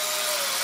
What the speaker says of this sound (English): this is our drill. Just to test the gauge.